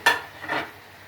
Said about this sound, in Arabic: هنزل الاجنحه كده في الطاسه وهقلب ده كله